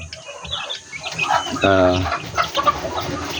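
Seven one-month-old lemon chickens cluck and peep close by, a cluster of short, bright calls with one longer rising squawk in the middle, with someone speaking at times.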